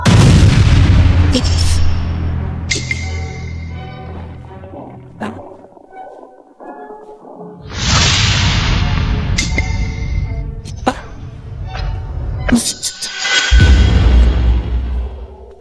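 Loud bursts of gunfire erupt right after an order to shoot in a dramatic scene, heavy booming shots over dense, roaring background noise with music, followed by a quieter stretch and then another loud surge.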